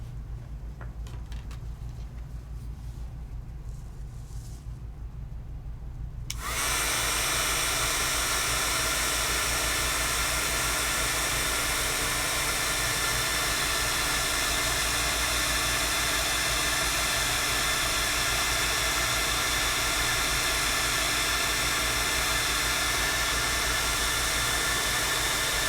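A heat tool blasting hot air to set embossing powder starts abruptly and then roars steadily as a loud, close, continuous hiss, with only a faint low hum before it switches on.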